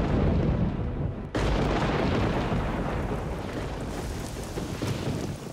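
Heavy thunderstorm with a steady roar of rain and rolling thunder filling the whole stretch, loud and continuous, with a brief dip just after the first second before the downpour and rumble resume.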